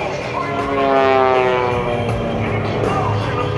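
A propeller plane's engine drones steadily and rises in pitch as it speeds up, heard from a distance, with someone talking over it.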